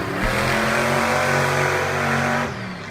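Chris Kohler's Avenger monster truck roars nearby at an outdoor monster truck event in West Lebanon, its big engine revving loud and sustained for over two seconds before cutting off abruptly.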